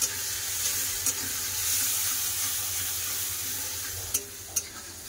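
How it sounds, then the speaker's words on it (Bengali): Chopped onion with radhuni, black cumin and green chillies frying in oil, a soft steady sizzle broken by a few sharp clicks of a spatula against the pan, without talk. "ভালো করে পেঁয়াজটাকে ভেজে নেবো।"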